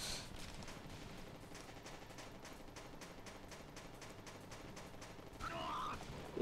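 The heat gun in Hard Corps: Uprising fires in a fast, steady stream of repeated shots, loud and continuous for several seconds, ending in a brief burst of other game noise.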